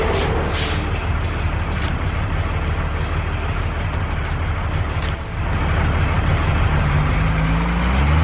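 A wheel loader lowers its bucket in a children's construction vehicle app, giving a loud air-brake-like hiss and release followed by a continuous heavy engine rumble, close and steady throughout.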